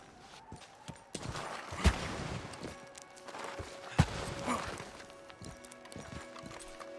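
A horse clip-clops and gallops across terrain in the Red Dead Redemption II video game, with rhythmic hoof thuds, a couple of sharp impacts and a soft whinny-like tone, moderately close.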